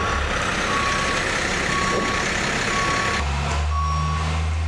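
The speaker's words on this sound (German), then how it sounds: "Der LKW dockt an den hydraulisch höhenverstellbaren Anfahrschutz an" A truck backs up to a loading dock with a hydraulic height-adjustable buffer, its reversing alarm beeping steadily and evenly over a loud, constant engine rumble that shifts lower near the end.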